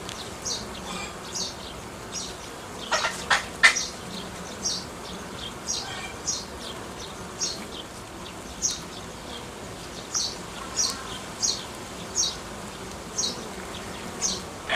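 Honey bees buzz around a strong nucleus hive, a continuous hum with a recurring series of short, high chirping or squeaking bursts repeating roughly every second across the clip, plus a few louder clustered taps near the start.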